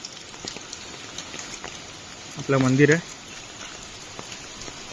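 Rain falls steadily in the courtyard of a village home beside a temple, a soft continuous patter behind a brief burst of nearby talking.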